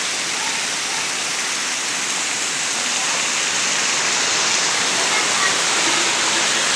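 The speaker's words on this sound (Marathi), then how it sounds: "पाऊस इलो बघा जोरदार" Heavy monsoon rain falls in Konkan during rice sowing season, a loud, steady, dense roar of downpour that never lets up, with no speech.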